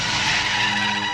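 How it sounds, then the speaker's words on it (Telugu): A car skids to a stop in a Telugu film scene, a short loud tire squeal with a steady high-pitched smear lasting about a second, with no talk over it. "డ్రైవర్ కారాపు"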